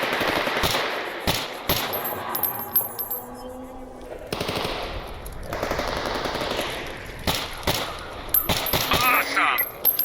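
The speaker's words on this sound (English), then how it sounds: "We're being shot at from behind now." Machine gun fire rattles from behind in the video game Stalker, with repeated rapid bursts and single shots spread across the scene at moderate loudness, with a voice speaking at times between them.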